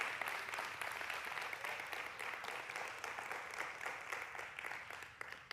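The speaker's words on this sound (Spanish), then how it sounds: "¿pueden aplaudir al grupo de alabanza que están haciendo un trabajo fenomenal?" Steady applause from a church congregation for a worship band, a dense, even patter of clapping that holds at moderate volume throughout.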